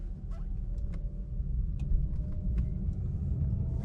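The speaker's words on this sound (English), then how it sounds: "show you what the car sounds like with no added speaker" A BMW i8 hybrid sports car rolls along in all-electric mode with no added speaker sound, giving only a low, quiet road and tire rumble with a few faint ticks from the cabin.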